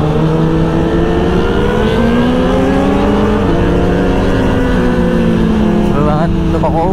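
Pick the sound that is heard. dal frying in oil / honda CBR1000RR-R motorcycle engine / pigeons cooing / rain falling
honda CBR1000RR-R motorcycle engine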